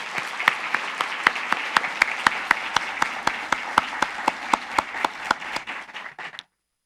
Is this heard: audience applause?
yes